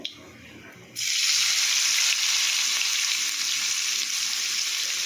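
Oil bursts into a loud, steady sizzle after a quiet second, crackling continuously as onions and nigella seeds fry in a pan.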